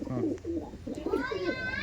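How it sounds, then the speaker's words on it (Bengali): Andhra/Kaldom breed pigeons, including a male, coo close by in low, rolling calls while someone talks over them. "এটা দেখাচ্ছি নর পায়রা"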